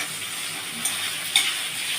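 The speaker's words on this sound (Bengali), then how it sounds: "এবারে আমি আলুগুলো দিয়ে দিচ্ছি।" Thinly sliced potatoes frying with onion in a pan give a steady, soft sizzle, with two brief stir clicks near the middle.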